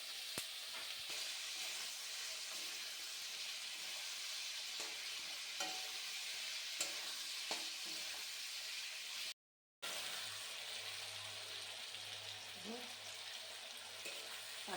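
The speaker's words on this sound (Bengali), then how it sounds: "এগুলোকে একটু হালকাভাবে ভাজবো" Cauliflower pieces for kofta fry lightly with salt and turmeric, giving a steady close sizzle with occasional stirring scrapes, faint talk now and then, and a short silent gap partway through.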